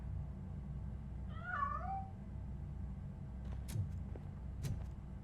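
A single drawn-out cat meow in the game Robocop: Rogue City, clear over a low ambient hum, followed by a few faint knocks and clicks.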